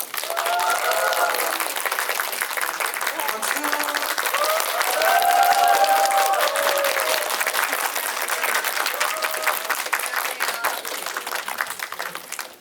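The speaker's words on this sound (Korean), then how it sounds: "큰 박수로 맞아주세요." Sustained applause from a large cinema audience at a film screening guest talk, loud and steady throughout, with a faint murmur of voices and cheering mixed in.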